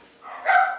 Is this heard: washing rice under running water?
no